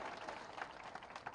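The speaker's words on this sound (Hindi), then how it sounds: "जोरदार ताली बजाओ बहन बेटी के सम्मान के लिए।" Crowd applause at an outdoor political rally where a chief minister addresses a public meeting, a dense steady clapping wash with a few louder bursts, heard alone without speech.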